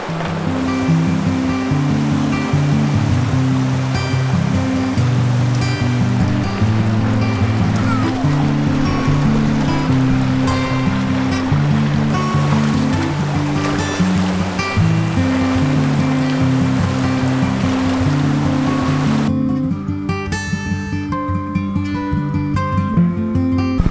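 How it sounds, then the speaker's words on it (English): River water rushes and churns around hikers wading upstream through the Narrows in Zion National Park, a loud, continuous outdoor roar with a tonal musical layer heard throughout. "many hikes can you say you've walked upstream along the river? Through the river, in the river."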